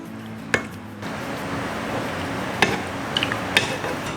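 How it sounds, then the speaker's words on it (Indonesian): Soft tofu being broken up in a pot of simmering sundubu jjigae, Korean tofu soup, with a few sharp clinks of a utensil against the pot over a steady bubbling hiss, close by and without talk. "Nih, ini sambil kita ancur-ancurin gitu tahunya."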